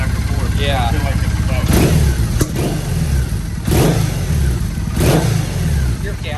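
A motorcycle engine idles and is blipped in repeated revs during a carburetor synchronization test, with three or four sharp swells over a steady close idle, while people talk over it.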